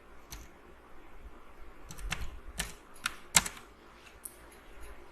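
Irregular keystrokes clatter on a computer keyboard, scattered clicks and taps at close range with a few louder presses amid quiet room noise.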